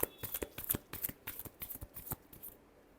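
Tarot cards are shuffled by hand in a quick, irregular run of soft riffling slaps and flicks, close but quiet. The final burst tapers off into silence, and no one speaks.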